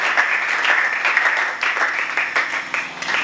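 Congregation applauding in a church, continuous dense clapping with uneven surges, loud and close throughout the short stretch.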